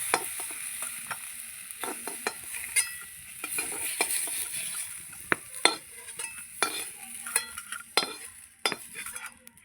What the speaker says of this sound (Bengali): বেগুনগুলো একটু লাল লাল করে আমি ভেজে নিয়েছি